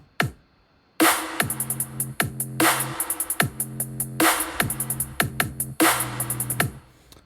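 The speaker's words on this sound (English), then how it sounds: "the hi-hats don't start straight away, so it sounds like this" An electronic music beat plays with a punchy kick and bass pattern and crisp hi-hat bursts, after a near-silent first second before the loop kicks in loud and rhythmic.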